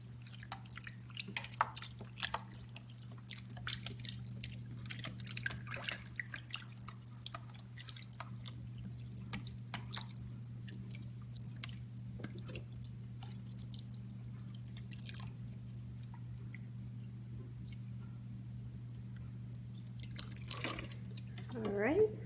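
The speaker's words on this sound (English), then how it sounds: "next I'm going to add all of this chicken broth. I'm just going to pour it right over the top." Chicken broth is poured over chicken and vegetables in a baking dish for chicken and rice, heard as faint, scattered trickles and drips over a steady low hum.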